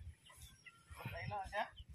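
Chickens at a resort in Bohol cluck and chatter nearby in short irregular calls, heard under people talking.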